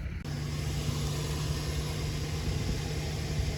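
A 1988 Jeep Comanche engine cranks briefly and then catches, settling into a steady, close, droning idle with a constant low hum and no voices.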